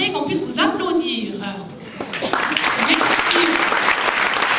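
Applause from a concert audience at an annual parish brass band performance swells into dense, steady clapping, with a voice speaking over the start before the clapping takes over.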